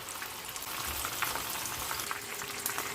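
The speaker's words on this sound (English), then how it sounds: "You're gonna fry them for around 4, maximum 5 minutes." Pieces of karaage, Japanese-style fried chicken, sizzle steadily in hot oil, a dense, continuous crackle and hiss heard close up with no talk over it.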